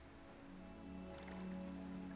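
Rain falls in a video game, a soft continuous patter of drops over a low steady hum, quiet and without speech.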